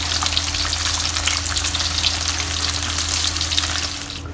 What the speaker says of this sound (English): We'll take this out from the oil and we'll fry the second batch